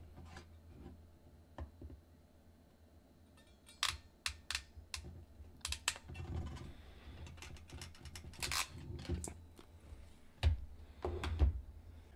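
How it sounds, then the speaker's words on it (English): Ratcheting crimpers clamp a connector on a homemade 1:1 choke for a doublet antenna, giving a string of sharp, close clicks and snaps in bursts, with quieter handling rustle between them. "I'm going to use a set of ratcheting crimpers to go ahead and nestle everything down nice and tight"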